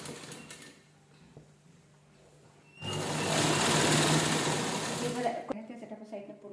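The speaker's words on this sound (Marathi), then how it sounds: "त्यासाठी आपण साईडला पूर्ण शिलाई करून घेऊया." A sewing machine stitches along the side of a cloth cover, a loud close whirring burst lasting a few seconds that starts and stops abruptly between quieter handling noise, with someone talking around it.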